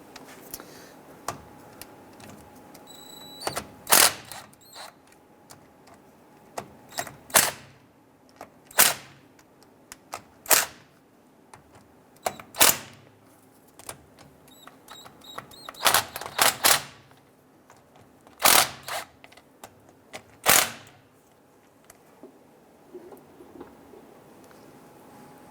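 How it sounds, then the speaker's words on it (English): Ratchet or wrench work loosens the half-inch differential cover bolts on a 2002-2008 Dodge Ram 1500, with sharp metallic clicks in scattered bursts against a quiet workshop background. "We want to start by loosening all of our 1/2-inch bolts around here"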